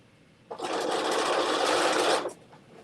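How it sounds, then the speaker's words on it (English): A sewing machine stitches pockets onto a dress with a half-inch seam allowance. It runs steadily and up close for just under two seconds, then stops, with no talking. "So again, I'm just attaching the pockets, a 1/2 inch seam allowance."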